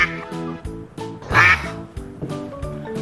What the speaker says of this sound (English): I think that the sound of a duck? Is that correct, teacher? Yes, okay. It's a duck.